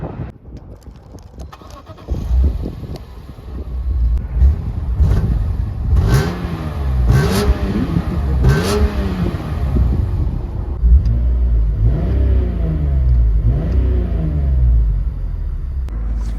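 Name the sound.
BMW M3 S54 engine revving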